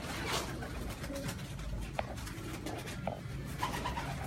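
Pigeons coo softly at a four-storey rooftop pigeon house, low murmuring calls repeating against steady outdoor background noise, with a couple of brief sharper chirps.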